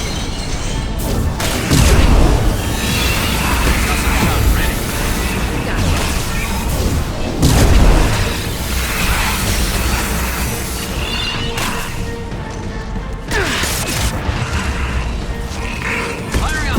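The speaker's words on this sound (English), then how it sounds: "Firing a high-impact shot." Guardian anti-ship batteries in Mass Effect 2 fire high-impact shots as loud, heavy booms with creaking mechanical rumble, repeating every few seconds in a dense, continuous barrage without a break.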